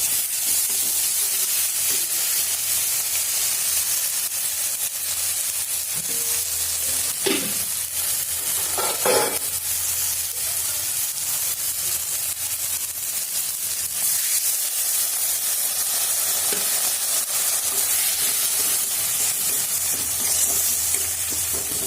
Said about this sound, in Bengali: দিয়ে একটু জল দিয়ে ভালো করে একটু কষিয়ে নেব।